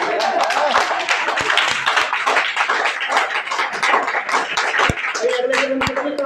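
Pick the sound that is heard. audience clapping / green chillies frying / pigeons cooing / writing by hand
audience clapping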